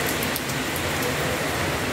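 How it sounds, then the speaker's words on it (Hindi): Heavy monsoon rain pours down in Ludhiana, a dense, steady hiss of drops striking surfaces, loud and continuous with no voices. "कितनी बारिश जबरदस्त हो रही है।"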